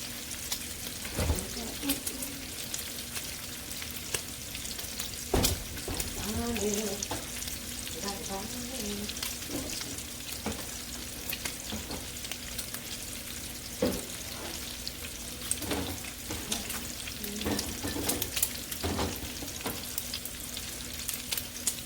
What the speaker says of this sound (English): let me put some minced garlic in here